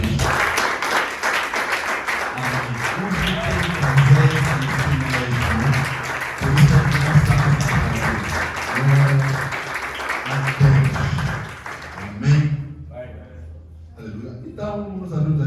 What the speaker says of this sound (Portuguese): Alguém pode aplaudir para si mesmo?